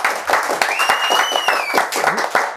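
A crowd claps and applauds at the end of a rap show, steady applause with voices talking over it.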